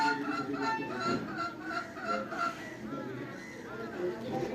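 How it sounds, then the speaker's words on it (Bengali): A hen clucks and calls repeatedly in short bursts, fairly close, with some talking in the background. "এটা ফাজিল মুরগি, মুরগিটার জন্য এই দেখেন কীভাবে ডাকাডাকি করতেছে"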